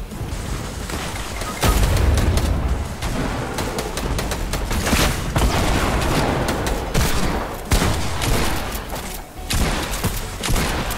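Gunfire in the video game Fortnite, with loud bursts of rapid shots and booms that recur throughout, densely packed and close.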